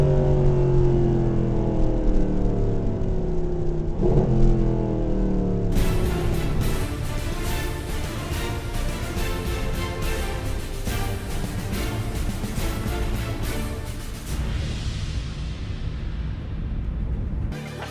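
A Mercedes SLS AMG sports car engine revs and roars, climbing through the gears with rising pitch, a loud continuous snarl that eases off near the end.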